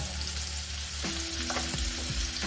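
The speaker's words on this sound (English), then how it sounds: "So I'm going to add in my onions to fry" Onions frying in hot oil for efo riro soup, a steady loud sizzle and crackle with occasional stirring scrapes throughout.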